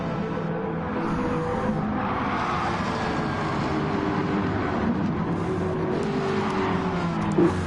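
Race car engines in a PS4 racing game roar steadily throughout as a car slides off the track, a dense continuous drone with faint tyre scrub and a brief sharp scrape near the end.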